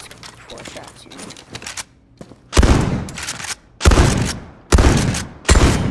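A Remington firearm fired at a shooting range: four loud, booming shots in a steady rhythm, preceded by quieter clicks and handling noise.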